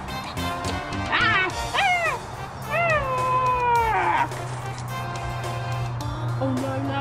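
A cat meows several times in a row, each call a clear rising-then-falling cry, heard over a steady low hum and background noise.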